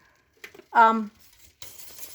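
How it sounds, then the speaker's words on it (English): A spoon clinks against a pot of boiling jam, followed by a brief vocal sound and then a steady bubbling hiss as the jam boils back up. "See, because I stir, and as soon as I stir, it's boiling right back up."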